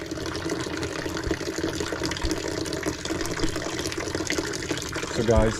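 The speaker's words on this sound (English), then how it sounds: "the little bit of water that was inside the tank, because that's almost to the top anyway, I just drain out in this bucket here" Leftover water drains from a household water heater tank into a bucket, a continuous splashing, trickling pour that runs steadily for several seconds at close range.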